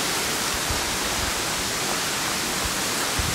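Broad steady rush of a waterfall far below a dark trail ledge, continuous and even with no speech, like distant falling water heard from above.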